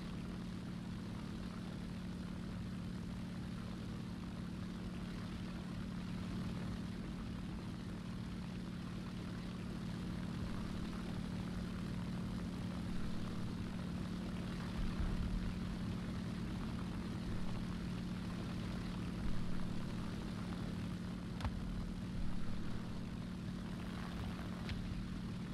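A propeller aircraft engine in War Thunder, a Japanese close air support plane, drones steadily and evenly throughout with a constant low hum and no one talking.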